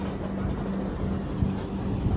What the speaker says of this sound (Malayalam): ഭദ്രക റെയിൽവേ സ്റ്റേഷനിലേക്ക് ഇതാ ട്രെയിൻ എത്തിക്കൊണ്ടിരിക്കുകയാണ്